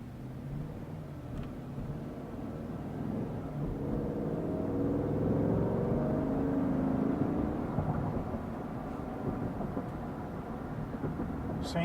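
A GMC Yukon Denali with a magnetic ride leveling kit rolls over bumps, a continuous low road and engine rumble from inside the cabin that swells slightly midway, with faint knocks from the suspension.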